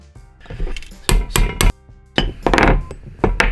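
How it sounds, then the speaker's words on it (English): Sharp close taps drive a Mazda Miata transmission seal into place, with several quick metallic knocks in clusters and short gaps between them. "Let's go ahead and tap this in."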